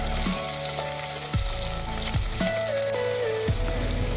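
Mustard seeds, cumin, onion, green chillies and curry leaves fry in hot oil with a close, continuous sizzle and crackle, broken by a few spoon knocks against the pot.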